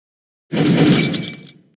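A glass bottle shatters in the video game Happy Wheels: one loud, close crash after a half-second of silence, with bright breaking glass ringing out for about a second, then fading.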